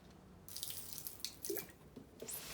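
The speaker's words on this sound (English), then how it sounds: "I'm just going to pour some of that out." Liquid poured from a container out of an open window, diluting it, heard as splashy water bursts starting after a brief quiet and continuing in irregular gushes with a few drip-like spots, fairly close.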